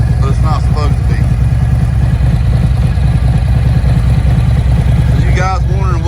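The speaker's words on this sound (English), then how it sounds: "So you guys wondering what Khrome Werks exhaust sounds like with torque cams" A 2024 Harley-Davidson Road Glide with an M8 114 engine, torque cams and a Khrome Werks full exhaust system, idling close by with a deep, loud, steady lumpy rumble that never lets up.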